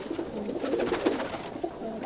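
Pigeons cooing in a loft, a steady cluster of soft, overlapping coos at close range.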